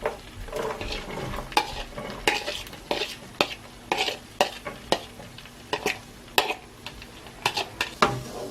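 Onions fry in a pan for chicken fettuccine Alfredo, a close crackling sizzle broken by frequent sharp clacks of a utensil stirring against the pan, with no talk.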